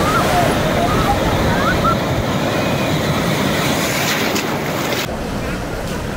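Large waves at Puri sea beach crash and roll in a loud, sustained wash of surf that eases slightly toward the end, with faint voices mixed into the roar.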